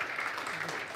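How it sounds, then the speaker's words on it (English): Audience applause at a hackathon opening day as a presenter comes on stage, a dense, steady wash of clapping from a crowd, brief and even throughout. "Give him a warm applause"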